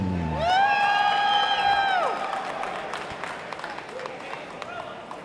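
Crowd applause and cheering at a high school district swim meet for the finalists, steady clapping and scattered whoops under an amplified announcer's voice, fading toward the end.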